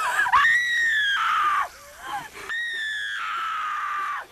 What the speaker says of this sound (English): What's with the screaming?